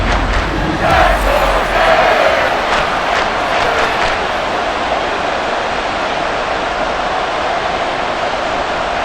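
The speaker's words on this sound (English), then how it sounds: "This crowd turning up the decibel level." A stadium crowd in Madden NFL 24 roars loudly and continuously, swelling early and then holding a dense, steady wall of noise with no talk over it.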